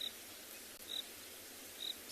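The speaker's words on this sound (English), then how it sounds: "I can hear some crickets off in the distance." Faint, thin cricket chirps come at sparse intervals over a soft, steady hiss, distant and quiet, on a morning safari in South Africa.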